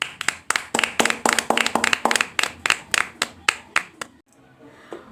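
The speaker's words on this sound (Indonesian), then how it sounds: "Tepuk tangan untuk kalian." Children in an elementary school classroom clap their hands together in a steady rhythmic burst of about twenty sharp, close claps that stop abruptly, followed by a brief quiet room tone.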